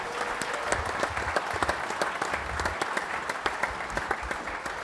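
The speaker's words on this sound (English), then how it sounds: "Give a big round of applause," Audience applause at an end-of-season awards show, a steady dense wash of clapping from a sizeable crowd lasting throughout, loud and close with no talk over it.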